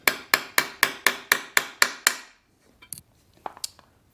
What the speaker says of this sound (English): I'm going to install it using the punch tool supplied and lightly tap it home